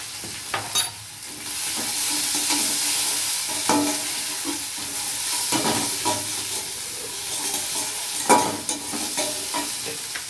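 Egg chorchori being stirred and fried in a pan, with a steady close sizzle broken by several sharp scraping stirs of the spatula; no talking.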